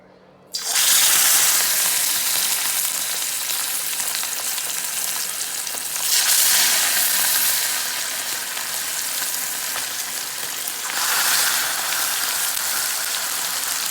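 Marinated chicken deep frying in hot oil for tomato chicken, a loud dense sizzle bursting in as the pieces go in, then a steady crackling hiss that swells and eases without talk.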